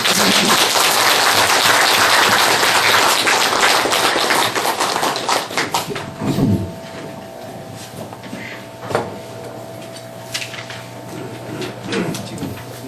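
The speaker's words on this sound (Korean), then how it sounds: "한번 박수 한번 쳐주십시오" Audience applause welcoming a Buddhist dharma teacher at a Korean Diamond Sutra lecture hall, dense clapping for about six seconds that fades into scattered taps and quiet room noise.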